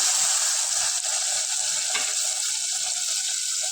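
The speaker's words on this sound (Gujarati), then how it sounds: "જો હવે આપણા રવૈયા આપણા તેલમાં બરાબર સસરી ગયા છે" Stuffed brinjals sizzle hard in hot oil after tomato puree goes into the pan. The bright frying hiss is loud and continuous, with one short scrape partway through.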